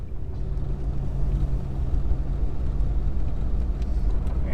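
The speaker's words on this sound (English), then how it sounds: "Engine's up to operating temp now." A car engine awaiting rust repairs and bodywork for a registration inspection idles at operating temperature, giving a steady, close, low rumble with no talk.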